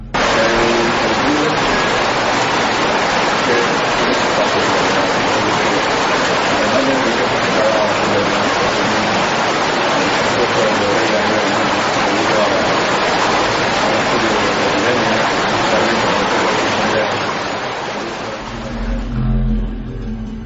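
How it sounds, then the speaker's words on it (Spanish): A powerful river in Granada rushes loudly and continuously, a dense roar of water that fills the whole scene almost unchanged. "la fuerza del río es tan poderosa que se nos lleva casi la voz de nuestro amigo"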